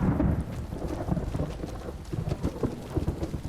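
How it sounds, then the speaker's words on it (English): Thunder rumbles during a rainstorm in the video game Fallout New Vegas, a low rolling boom under steady pattering rain, moderately loud with no voices. "As the thunder strikes."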